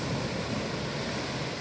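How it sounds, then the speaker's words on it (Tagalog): Big ocean waves roll onto a black sand beach at Nasugbu, a continuous loud wash of surf with wind noise and no break. "Ang lalaki ng alon."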